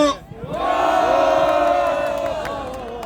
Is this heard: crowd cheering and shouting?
yes